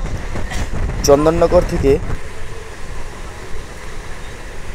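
A galloping local train runs nonstop from Nabadwip Dham toward Bandel, its steady rumble and wind noise filling the carriage while a voice briefly speaks over it near the start.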